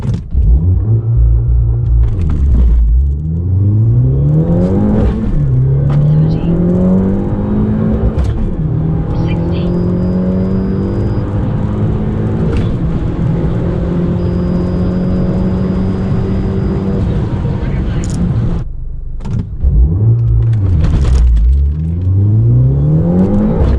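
A big-turbo Abarth 500 launching hard and pulling through the gears, loud close engine roar rising repeatedly with shift breaks, a lift near the end, then revving up again.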